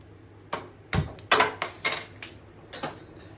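A metal kadai is set down on a stove in a home kitchen before cooking a Bengali prawn curry with jackfruit seeds, giving a series of sharp clanks and scrapes, close and fairly loud, with no talking.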